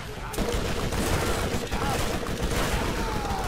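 Rapid gunfire from the video game Borderlands rattles in dense, continuous bursts, loud and close with booming impacts throughout.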